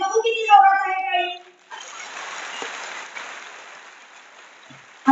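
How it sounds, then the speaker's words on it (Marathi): Applause from a crowd at a BJP Women's Day rally in Satara, heard as a steady broad wash of clapping that follows someone speaking into a microphone and then slowly fades. "बघू किती जोरात आहे टाळी."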